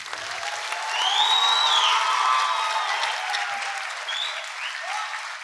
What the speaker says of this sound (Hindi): एक बार फिर से तालियां आप लोग बजाएं।